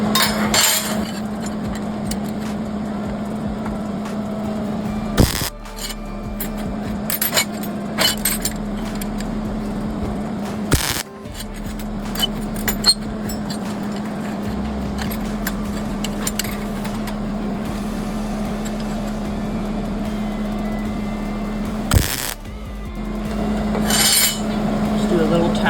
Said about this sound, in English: Now we're just going to weld them up.